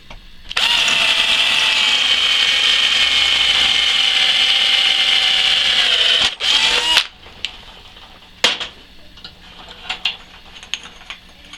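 A power drill bores through both walls of a steel tube with a loud, steady high-pitched whine for about six seconds, then winds down, followed by a few sharp clunks and lighter handling knocks.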